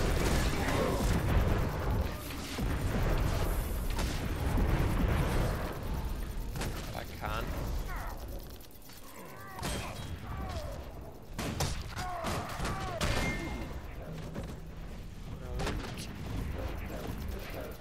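Engineer's sentry turret firing in the Guild Wars 2 video game, a dense mix of rapid thumps, clanks and mechanical shots among battle noise, with someone talking over it.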